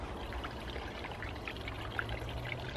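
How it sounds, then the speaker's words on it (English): Water trickling and splashing steadily from a small water feature in a garden, a soft continuous pour close by with no voices. "I woke up next to a lovely little water feature."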